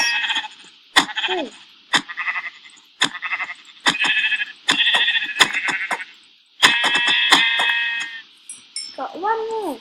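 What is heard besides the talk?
sheep bleating in a video game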